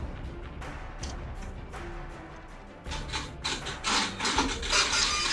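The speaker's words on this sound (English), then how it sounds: "So I'll print it now." A card printer in a point-of-sale lab runs a print job: soft mechanical whirring and ticking at first, then louder rolling, clicking feed noises in the second half.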